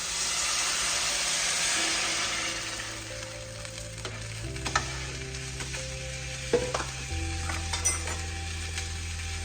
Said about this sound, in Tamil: நாலரை கப்பு ஜலம் விட்டாச்சு.